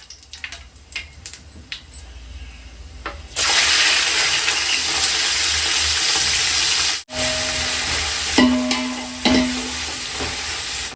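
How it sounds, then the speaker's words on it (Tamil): Whole spices such as cinnamon, cloves and cardamom sauté with onions in hot oil for biryani, a loud steady sizzle that starts abruptly after scattered clatter, with a brief break and some utensil scrapes later. "என்னம்மா இதோ வதங்கிட்டே இருக்குமா? இன்னும் கொஞ்சம் வதங்கணும் போல இருக்கு"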